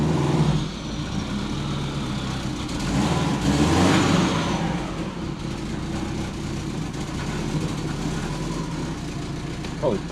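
Subaru converted from automatic to a 6-speed manual accelerating on a road drive, engine steady and close with a brief swell of revving midway, continuous rumble throughout.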